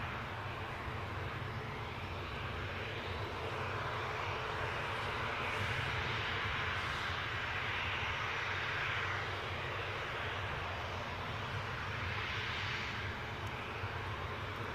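A Ryanair Boeing 737-800 airliner arrives at Newcastle airport, its jet roar steady and broad at a moderate distance, slowly swelling and easing over the whole stretch.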